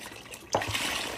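Water poured into a pot of browned hamburger: a sudden close splash and hiss of liquid hitting the hot pan, then a steady pour trickling on.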